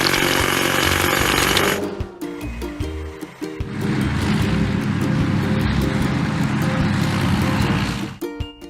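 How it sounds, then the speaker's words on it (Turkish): A heavy hydraulic hammer breaking rock in a construction video game pounds steadily with a loud mechanical rattle and low engine drone, running almost continuously with a few brief pauses. "Hidrolik çekiç."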